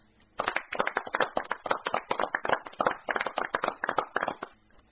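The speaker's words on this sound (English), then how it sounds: "get ready for another applause." Applause from a crowd: dense clapping starts suddenly, holds steady for several seconds, then fades out.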